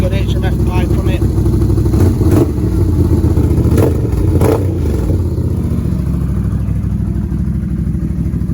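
A Can-Am Outlander 1000 ATV fitted with an HMF exhaust pipe runs loud and close, a deep throbbing idle with a few brief revs and clatter early on, then settling into a steady rumble.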